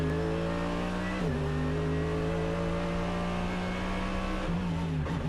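DTM race car engine during qualifying at the Norisring street circuit, a loud sustained high-pitched howl holding steady, with brief dips as gears shift, running continuously and close.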